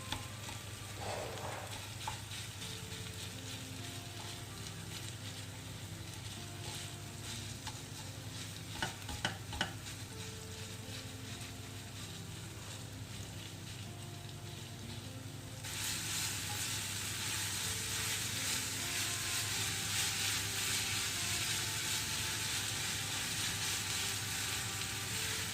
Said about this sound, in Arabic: ونقليه غير بشويه.